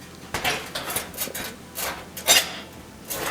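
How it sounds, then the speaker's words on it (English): A metal bottom broiler pan slides back into a GE oven that won't heat up, giving a run of close clanks, scrapes and rattles with short gaps between them. "So I'm putting the bottom broiler pan back in."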